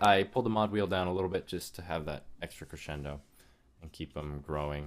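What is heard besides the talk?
No everyday noises stand out.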